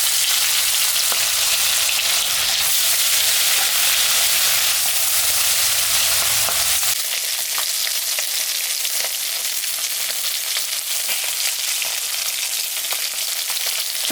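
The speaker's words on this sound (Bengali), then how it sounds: "মাছটা এখন আমি ভাজবো।" Salted, turmeric-rubbed silver carp fish fries in hot mustard oil, giving a loud, continuous crackling sizzle that carries on steadily with no talking, softening slightly partway through.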